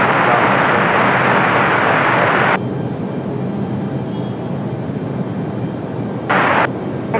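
An airliner taking off from runway 23 left at Raleigh-Durham, a loud, steady broadband engine roar that suddenly drops to a lower, duller rumble, with a brief louder surge near the end.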